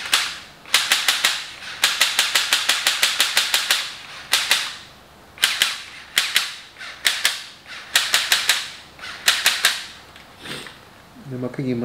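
A toy SCAR-L rifle fires in rapid bursts of sharp, snappy clicks, close and loud, the volleys separated by brief pauses, with a few clattering mechanism sounds near the end.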